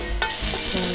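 Ginger sizzles in hot oil in a pot, a dense, close hiss broken by a few brief scraping stirs over about a second, with no voices.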